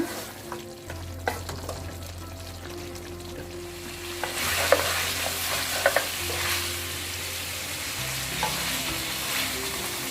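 Beef for biryani cooks in a covered pot, giving a soft steady sizzle with occasional clinks and scrapes of a utensil and a low hum, moderate and continuous without talk.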